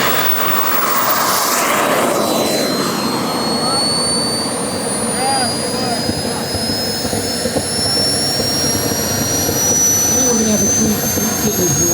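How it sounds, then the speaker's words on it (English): A 1:5 scale BVM L-39 model jet in flight, its turbine giving a loud, continuous whine and roar that sweeps in pitch as it passes, with a voice talking faintly underneath. "it's a really, really neat airplane to see flying."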